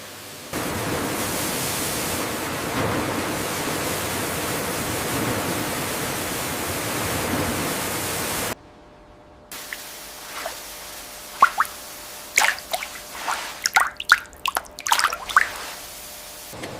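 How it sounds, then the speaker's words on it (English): Dragon fruits pass through an automated washing system in a jelly factory, first a steady loud hiss of spraying water, then quieter dripping, plops and splashes after a brief pause. "Now the fruits move to our automated washing system."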